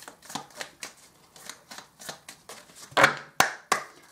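Oracle cards being shuffled and drawn, a run of quick papery riffles and slaps in a steady rhythm that ends in three sharper, louder snaps as cards are pulled out, close by with no talking.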